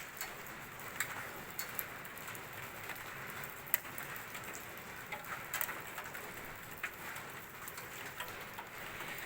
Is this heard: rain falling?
yes